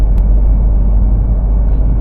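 A car cruising along a road in Negros, heard from inside as a steady, deep engine and tyre rumble with smooth, constant road noise.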